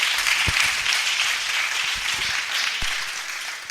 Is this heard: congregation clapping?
yes